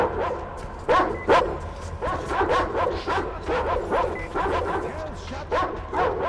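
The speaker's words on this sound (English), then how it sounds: "Damn dogs!" Dogs bark and yip repeatedly in Metro Exodus, a rapid cluster of sharp, fairly close barks with whimpers mixed in over a low background rumble.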